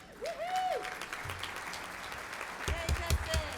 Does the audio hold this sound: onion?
no